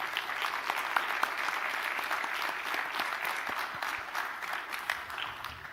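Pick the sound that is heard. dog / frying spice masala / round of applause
round of applause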